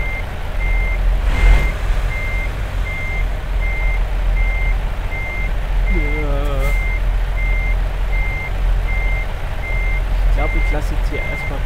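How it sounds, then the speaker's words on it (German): Steady reversing beeps from a truck in American Truck Simulator repeat at an even pace across the whole stretch over a constant low engine rumble, with a brief voice in the background. "Was wird hier gepiept?"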